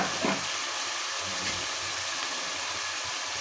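Thinly sliced onions sizzle and fry in hot oil in a pan for a curry gravy, a dense, steady crackle with a brief stir near the start.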